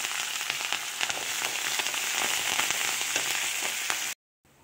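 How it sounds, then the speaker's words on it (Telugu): Garlic, asafoetida and curry leaves frying in hot oil for a tempering give off a loud, steady sizzle with dense crackles and pops, close up, ending abruptly in silence. "ఈ పోపు ఇలా ఏగుతుంది కదండి"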